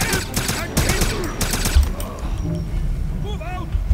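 Rapid bursts of heavy machine-gun fire in the video game Wolfenstein (2009), loud and dense, mixed with game effects and a voice talking over the shooting.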